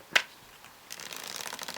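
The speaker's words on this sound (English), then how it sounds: "you're just going to riffle the cards together just a little bit" A light riffle shuffle of playing cards for a Zarrow shuffle: one sharp snap near the start, then a soft, fluttering ripple of cards close by, no talking.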